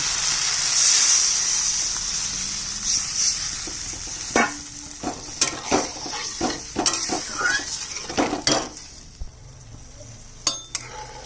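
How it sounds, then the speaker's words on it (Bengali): Water hits fried spice paste in a hot pan for a snakehead fish curry, setting off a loud, steady hiss of sizzling that fades into scattered scrapes and clinks of a spoon stirring against the pan. "মশলা কষানো হয়ে গেছে জল দিয়ে দিচ্ছি"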